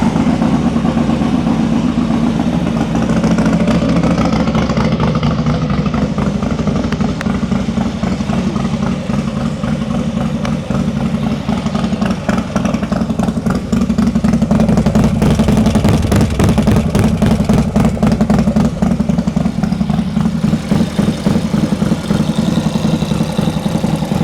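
A new 2024 Harley-Davidson motorcycle engine idles loudly and close, a steady low rumbling throb with dense rapid firing pulses that hold even for the whole stretch, no voices over it.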